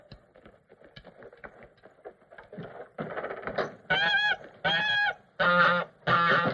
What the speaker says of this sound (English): Get that fool goose out of here!